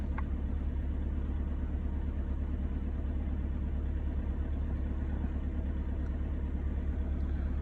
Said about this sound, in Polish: obroty są podwyższone jeszcze, ale no wiadomo, silnik jest zimny